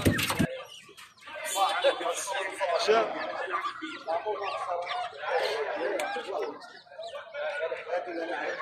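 Hens cluck and chatter in a busy flock at a Friday poultry and pigeon market, close by and continuous, with people talking over the clucking throughout.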